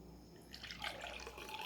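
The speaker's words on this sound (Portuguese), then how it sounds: "Adicionei água" Water pours into a glass in a soft, steady trickle that rises gradually, faint and close, with no voices.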